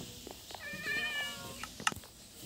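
Cat meowing in a video game, a few short, fairly faint meows under background game sounds and music.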